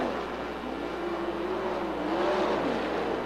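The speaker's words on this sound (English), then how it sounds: "Spence now really putting the pressure to the 88J of Amantia as they work their way into turns number 1 and 2" Sprint cars racing on the dirt oval at Georgetown Speedway, a steady loud engine roar holding through the whole stretch with a slight rise in pitch as the field works through the turns.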